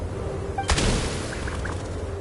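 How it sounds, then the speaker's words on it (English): A single sharp gunshot rings out in the Genshin Impact video game, booming once and then fading, followed by faint game effects. "There's the gunshot."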